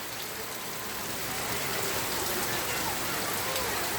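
Heavy monsoon rain falling at a village lake, a dense, even hiss of drops that swells slightly louder as it continues without pause.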